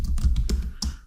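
Close, fast tapping of computer keyboard keys while code is typed, a quick run of clicks with no talking.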